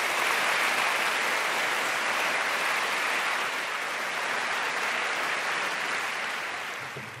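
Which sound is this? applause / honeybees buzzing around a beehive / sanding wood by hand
applause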